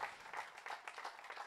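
Faint, distant audience applause for a singer during a televised studio evening, a steady soft patter of many hands without voices.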